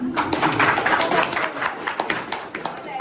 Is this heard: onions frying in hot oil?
no